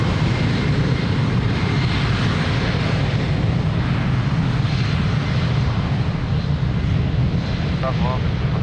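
TAP Portugal flight 1032, an airliner, takes off from runway 02 at Lisbon Airport with a steady, loud broadband engine roar that holds throughout. A radio-style voice sounds briefly near the end.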